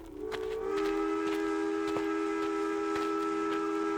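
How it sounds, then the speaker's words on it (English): Steam locomotive whistle, a long, sustained wailing tone that swells in within the first half second and holds steadily, loud and fairly near, with faint clanking ticks underneath. "The long, lonesome wail of a steam whistle."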